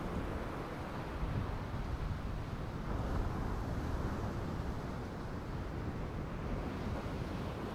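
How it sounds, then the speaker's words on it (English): Gale-force winter wind blasts steadily across an open seashore, a dense roaring rush mixed with crashing surf and heavy microphone buffeting that continues without a break. "I was loving being outside, even in gale force winds."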